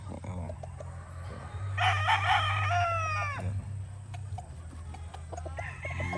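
Boston Roundhead chickens on a farm: a loud rooster crow rings out near the middle, with clucking and other fowl calls around it over a steady low hum, and someone talks briefly nearby.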